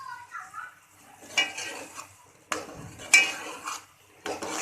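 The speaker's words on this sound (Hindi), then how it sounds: "अब हम इसको भून लेंगे।" A spoon stirs masala and onions frying in a pan, giving scattered metallic clinks and scrapes against the pan with a soft background hiss, close and moderately loud.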